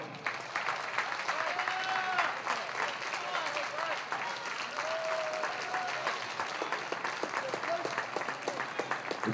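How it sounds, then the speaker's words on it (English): A crowd at an indoor athletics event in a hall applauds warmly and continuously, the clapping broad and steady while a voice on the public address and scattered talk carry through it. "Ladies and gentlemen, please give a warm round of applause to Mr."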